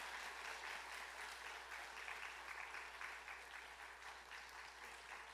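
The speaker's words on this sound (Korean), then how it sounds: "다 같이 박수로 한번 축하해 드리겠습니다." Church congregation at a Korean Sunday worship service applauding in celebration, a steady, evenly sustained wash of many hands clapping, heard from somewhat far off with a low hum underneath.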